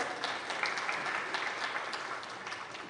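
A conference crowd claps steadily and densely throughout, a warm wash of applause filling the room without any voices.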